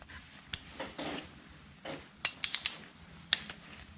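A torque wrench tightens ARP crankshaft main bearing bolts on a car engine, giving a few sharp metallic clicks and ratcheting scrapes, close and fairly quiet, with a quick cluster of clicks near the middle.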